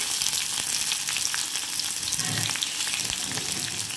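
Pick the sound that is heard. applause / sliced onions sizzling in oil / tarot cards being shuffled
sliced onions sizzling in oil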